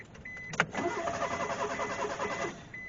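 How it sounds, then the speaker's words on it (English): Mitsubishi Mirage engine cranking on the key after sitting, a steady whirring starter drone lasting about two seconds, close by, with a sharp click at the start and no catch. "Turn the key in the on position and crank it."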